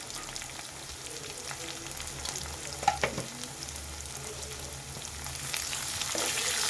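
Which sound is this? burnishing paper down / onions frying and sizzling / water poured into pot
onions frying and sizzling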